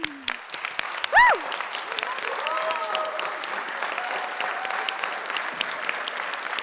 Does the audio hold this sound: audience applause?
yes